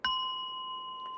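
A bell struck once in a Buddhist lecture setting gives a sharp onset followed by a long, steady ringing hum with clear overtones that sustains evenly without fading, heard close and alone.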